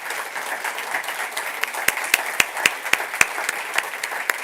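An audience at a forum on Portuguese and US higher education applauds the foundation FLAD in a steady crowd patter, with several loud, distinct claps from someone nearby punctuating it midway.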